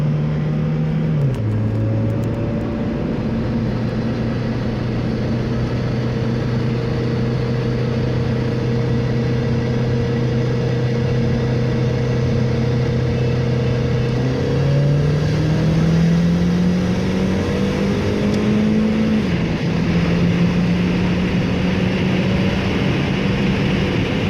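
A JSRP turbocharged Mazda Miata pulls hard from a 35 mph roll race, its engine droning steadily and climbing in pitch through the gears with a couple of shift dips, loud and close throughout.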